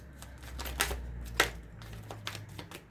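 Tarot cards being shuffled by hand, giving a run of light, clicky card snaps and flutters, a few louder slaps among them, over a faint low hum in a quiet room.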